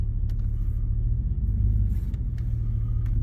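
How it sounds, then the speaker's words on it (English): A GM car pulls away slowly in a parking lot at around 3 miles an hour, a steady low engine rumble with faint road noise, close and continuous. "So let's start driving this up the road a little bit."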